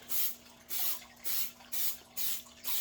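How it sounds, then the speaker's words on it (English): Five short bursts of aerosol waterproofing spray onto suede Clarks shoes hiss in a steady rhythm, each about half a second long, close and fairly quiet, with no talking. "so I'm gonna spray it."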